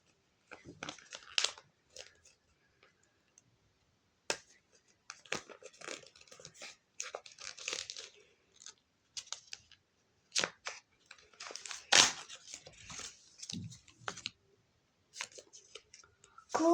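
Plastic packaging of a surprise blind box is crinkled and torn open in short, irregular rustling bursts, close to the mic, with someone talking intermittently between the crackles.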